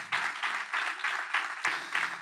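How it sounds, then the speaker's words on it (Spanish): Church congregation clapping in rhythm during a sermon, steady pulsing beats roughly every quarter second, moderately loud and unaccompanied by speech. "Dar un aplauso al Señor."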